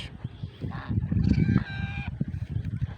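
Domestic geese call with loud honking and nasal cries while they bathe and swim close by, the calls overlapping with splashing.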